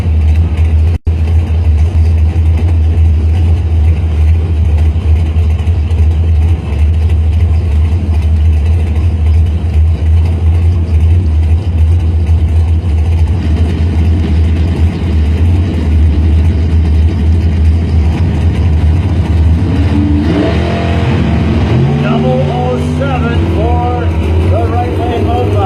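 A 1970 Dodge Demon drag car with a 637 Mopar engine runs as a loud, steady low rumble throughout, with a rising rev and engine sweep near the end, under a commentator's voice at the track.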